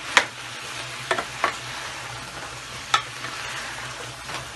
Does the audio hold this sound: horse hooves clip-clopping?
no